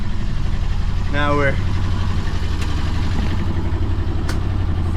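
A sailboat motoring under engine power off the Victoria settlement, a steady low engine drone with a brief whistling tone, while someone speaks over it.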